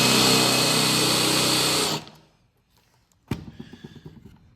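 A drill bores out the plastic tabs on a window handle from a 1995 Ford F150, a loud high whine that cuts off after two seconds, followed by a sharp crack and a few clicks and rattles.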